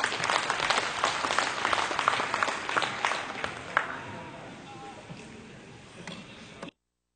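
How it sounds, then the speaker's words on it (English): Spectators at a dairy cattle show ringside give a round of applause for heifers, with distinct claps that thin out and fade over several seconds before cutting off. "let's give another good round of applause."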